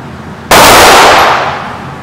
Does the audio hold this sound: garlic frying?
no